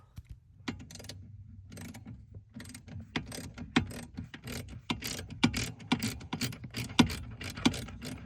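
A wrench or ratchet working a loose 12 mm bolt on a Toyota electric steering assembly: quiet irregular metallic clicks and ratcheting taps that speed up and grow sharper over several seconds, close by.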